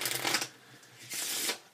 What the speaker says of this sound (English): let's start off by shuffling up the cards.